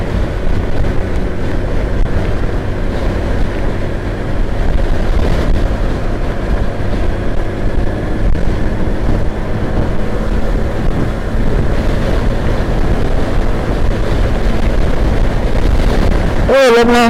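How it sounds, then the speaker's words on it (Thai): Strong wind buffets the microphone while a rider is on a 2022 Honda Wave 110i motorcycle, a loud continuous roar with rumbling gusts throughout and a brief sharp disturbance at the very end. "ตอนนี้ลมพัดแรงมากขี่เลยไม่ได้นะครับ"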